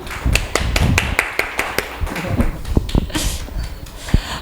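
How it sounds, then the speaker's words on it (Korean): Scattered hand claps from a church congregation, sharp and uneven, ringing out in short bursts over about four seconds without speech. "하나님께 영광의 박수."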